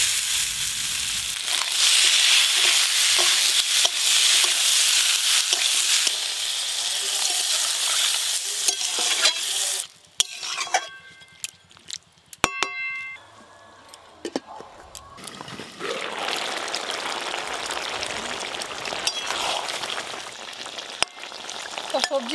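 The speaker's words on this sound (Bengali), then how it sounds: "এর সাথেই সবজি ভাজাটা দিয়ে দেবো।" Vegetables frying with mustard and turmeric in a pan, a loud close sizzle and stirring that drops to near quiet with scattered clinks, then resumes as a softer fry.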